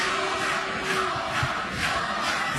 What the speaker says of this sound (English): Chance of Nover now from this sold-out crowd at Caesars in Atlantic City.